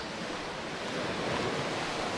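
Sea waves wash onto the shore beside a small beach café in Rybachye, Crimea, a soft continuous surf roar with light wind, no speech.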